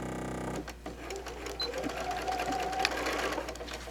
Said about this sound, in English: we're going to be sewing at the 1/2 inch seam, and we're just going to do our basic straight stitch